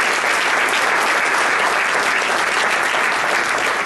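Dense, steady applause from a large audience at a business diversity expo, a continuous wash of clapping at full volume with no voices on top.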